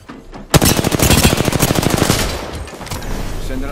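Rapid automatic gunfire in Apex Legends bursts in suddenly, a loud close string of evenly spaced shots lasting about two seconds before trailing off into low rumbling ambience.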